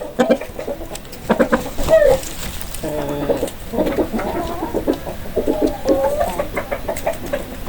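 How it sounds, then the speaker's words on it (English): A chicken clucks in a series of short, close, uneven calls and clucks, loud and alone with no talk. "Chicken."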